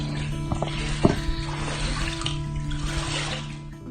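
Floodwater pours into a house, a continuous rushing, splashing wash of water with a few sharp knocks and thuds, fairly close and loud, with no voices.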